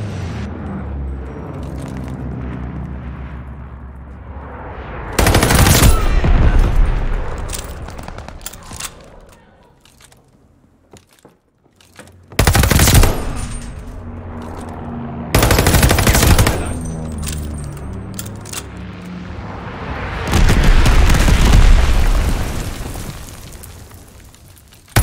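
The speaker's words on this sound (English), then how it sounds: "Teammate called a bombing run." A bombing run in Call of Duty: Vanguard multiplayer brings loud, booming explosions in several heavy bursts, alongside rattling machine-gun fire and rumbling gunfire across a battle scene.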